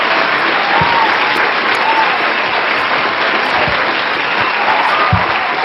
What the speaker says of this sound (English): I'll take the applause